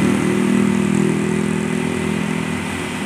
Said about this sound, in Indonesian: Khas suara mesinnya guys ya, mesin belakang.